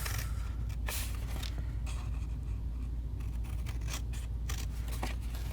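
Scissors snip repeatedly through the side flaps of a handmade birthday box papercraft project, giving quick crisp cuts close by over a steady low hum, with no voices.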